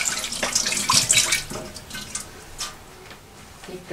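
Hands are washed under a running kitchen tap in preparation for kneading dough, with water splashing close up and a steady flow broken by rubbing and dripping.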